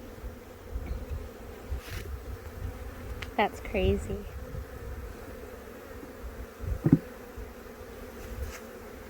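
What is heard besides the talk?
honey bees buzzing during nuc transfer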